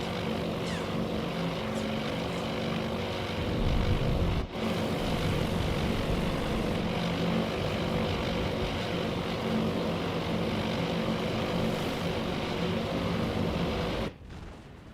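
Propeller aircraft engines of torpedo bombers drone steadily throughout, a continuous broad roar in a Task Force Admiral naval battle, briefly dipping near the middle and cutting off abruptly at the end.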